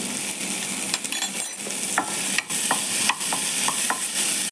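Shallots, tomato and garlic sauté in butter for a chicken butter soup, with a steady close sizzle broken by several sharp clinks of a spoon stirring against the pan; nobody speaks.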